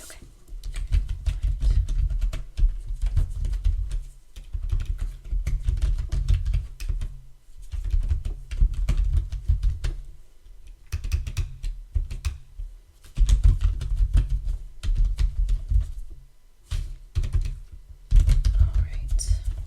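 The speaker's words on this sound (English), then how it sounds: "Let me type that up and I'll get that printed for you." Computer keyboard typing at a medical office desk during a new patient physical exam, a close, soft run of keystrokes in bursts with short pauses, set against a low background hum.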